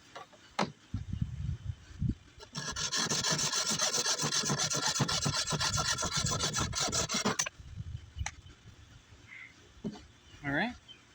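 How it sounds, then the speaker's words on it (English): A hand saw rasps steadily through a fiberglass rod for a bow, about five seconds of dense back-and-forth strokes, with quieter handling noises and a voice before and after. "marked halfway, and I'll cut it with my saw"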